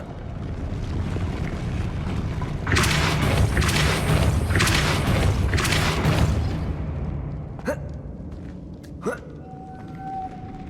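A Depulso spell impact in Hogwarts Legacy: a loud, broad whooshing burst that swells for a few seconds over rushing wind-like ambience, then fades, followed by two brief sharp accents.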